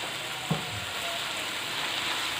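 Raw chicken, a kilo of it, dropped into hot oil with sautéed ginger-garlic paste for a green chilli karahi, giving a small thump followed by a steady, even frying hiss that carries on alone.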